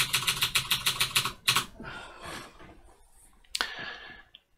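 A series of rapid, evenly spaced key presses on a keyboard wired to an Arduino hexadecimal keypad project, deleting typed characters with crisp close clicks, then a few scattered softer clicks and one sharper tap before silence.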